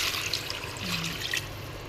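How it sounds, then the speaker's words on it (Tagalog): Water poured into a cooking pot of Pakistani-style karahi, a brief steady splashing trickle lasting a couple of seconds, close and moderately loud with no talking. "Siyempre, lalagyan natin yan ng tubig"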